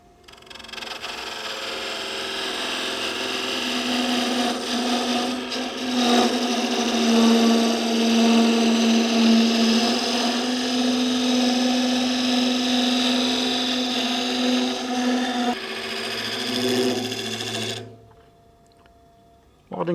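A wood lathe spins a small nut bowl blank while a gouge cuts the timber, giving a steady, loud, continuous whirring hum with a grainy cutting hiss that runs unbroken for most of the stretch, then stops abruptly near the end.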